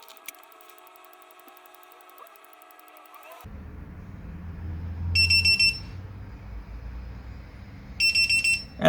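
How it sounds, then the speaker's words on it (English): A high, piercing FPV drone alarm buzzer sounds in two separate bursts of rapid beeps, a few seconds apart, over a steady low background hum. "after a minute the buzzer is going to be activated and going to start beeping"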